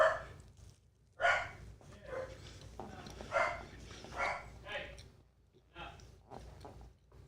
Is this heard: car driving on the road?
no